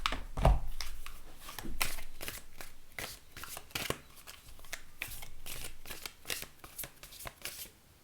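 Oracle cards being shuffled close up, a rapid series of crisp riffling flutters and slaps in irregular bursts, with no talking.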